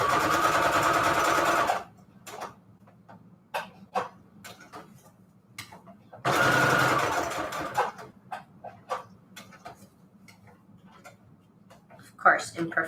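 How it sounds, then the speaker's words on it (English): A sewing machine runs a straight stitch through fabric onto a manila tag in two loud bursts of about two seconds each, with a voice talking and scattered clicks and taps between them. "So we'll do a straight stitch all the way around first."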